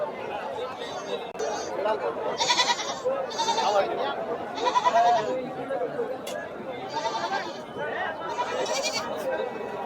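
Goats and sheep bleat repeatedly at the Kashti goat and sheep market, several distinct bleats rising over a constant background of crowd chatter and voices.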